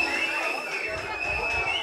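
A crowd cheering and shouting at a live pagode show, a dense, steady roar of many voices close around, with a high sustained tone running through it.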